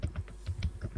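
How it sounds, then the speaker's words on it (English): Loud typing on a computer keyboard: quick, uneven clusters of clacking keystrokes, close and distinct, with no voices over them. "Who is typing so loud?"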